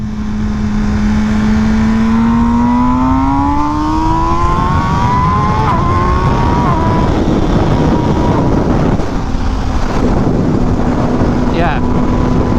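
An MV Agusta motorcycle with no windshield rides at speed, its engine note climbing through several rising gear pulls under a constant roar of wind buffeting the microphone.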